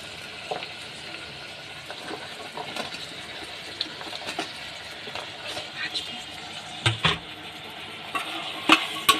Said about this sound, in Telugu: Next vegetables వేసుకుంటున్నామండి. క్యారెట్, ఆలు, బీనీస్.